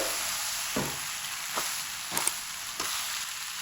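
Noodles made from flour and semolina dough are stirred in a frying pan, giving a steady sizzle with a few distinct scraping strokes of the utensil against the pan.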